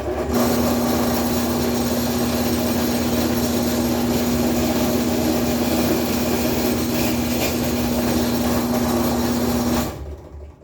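A steady, loud motorized whine with grinding runs continuously for about ten seconds, then cuts off abruptly; sounds like a drill press boring into wood.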